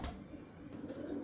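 A pigeon of the Teddy breed coos softly in a low, rounded murmur across a short moment, faint and close with no voices over it.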